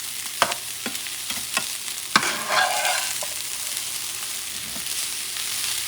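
Rice and pigeon peas are stirred and mixed in a pot, with a few sharp spoon scrapes and knocks early on, then a softer bubbling sizzle that continues without any talking.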